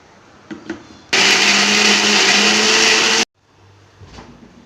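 A mixer grinder grinding chutney whirs loudly at high speed for about two seconds, then cuts off abruptly, leaving quiet room noise.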